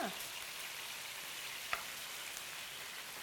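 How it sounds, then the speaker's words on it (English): Steady crackling sizzle of chicken breast frying in a hot pan, even and continuous, with a faint clink partway through. "You can hear it sizzling"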